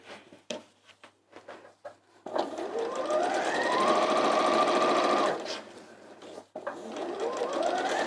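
A domestic sewing machine stitches down the sides of a fabric doorstop in short, stuttering bursts that settle into a sustained fast whir, then stops briefly and runs again.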